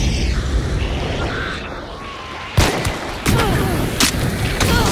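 Dual pistols firing in the video game Hunt: Showdown: after a stretch of dense ambient noise, several loud, sharp shots crack in quick succession, each with a short echoing tail.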